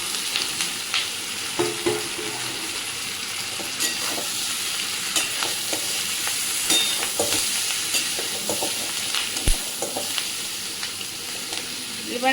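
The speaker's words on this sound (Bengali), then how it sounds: "পেঁয়াজটা আর ক্যাপসিকামটা আমার হালকা নাড়াচাড়া হয়ে গেছে। এবার আমি এর মধ্যে চিকেনটা দিয়ে দেবো, ভেজে রাখা চিকেনটা দিয়ে দিলাম।" Fried chicken is stirred into sizzling onion and capsicum in a pan, giving a steady loud frying hiss with scraping stirs and occasional clacks throughout.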